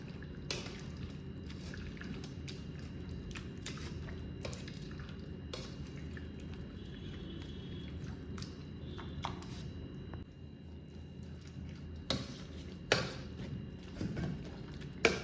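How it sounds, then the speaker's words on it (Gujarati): Cooked vegetables being mashed, repeated soft squelching thuds with wet squishes, irregular and close, growing sharper toward the end, no voices. "આખી વેજીટેબલ્સને સરસ રીતે મેશ કરી લેવાની છે"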